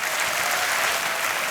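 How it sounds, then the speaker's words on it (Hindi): Audience applause on the Kaun Banega Crorepati quiz show after a contestant wins 50 lakh rupees, a brief, steady wash of many hands clapping, loud and continuous with no break. "तालियां बजती रहे देवियों सज्जनों।"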